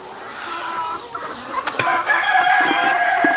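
Chickens cluck and call continuously at close range, with a rooster's crow rising above the flock toward the end.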